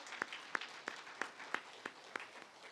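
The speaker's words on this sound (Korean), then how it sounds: "우리 박수 한번 주시길 바랍니다." Church congregation clapping during a worship service, faint and distant, with a few distinct claps standing out at a fairly regular rhythm above a soft wash of applause.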